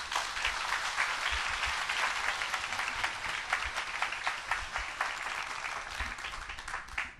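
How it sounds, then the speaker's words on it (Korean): Congregation at a prayer-retreat revival service applauding to welcome the pastor, many hands clapping in a sustained dense wash that stays loud and even and trails off at the end. "우리 목사님 박수로 모시겠습니다."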